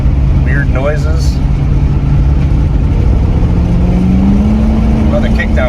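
A 1958 Buick Roadmaster engine rises in pitch as the transmission kicks down, a loud, continuous revving drone heard from inside the car.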